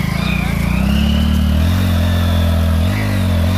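A Hero Glamour 125cc motorcycle revs hard as it climbs a ramp, its loud close engine droning continuously with rising and falling pitch as the throttle is worked.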